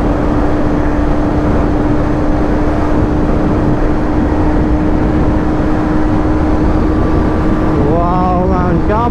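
A KTM Duke 250 motorcycle pulls hard in fifth gear during a drag race, its loud engine drone steady throughout and mixed with strong wind rush, rising in pitch near the end.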